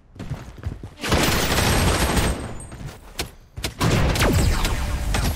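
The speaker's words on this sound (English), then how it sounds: "I don't know who's shooting at me, but stop." Dense bursts of automatic gunfire from the video game Project: BloodStrike come through close and loud, with a short pause in between and several sharp single shots before the shooting resumes.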